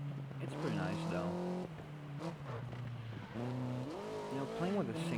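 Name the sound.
Renault Alpine A110 car driving in a video game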